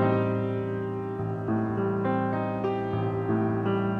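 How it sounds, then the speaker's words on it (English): Piano plays an A half-diminished chord, sounding full and sustained with voicings shifting softly across several seconds, moderately quiet and with no voices. "in this case, it's called A half diminished, and it sounds like this."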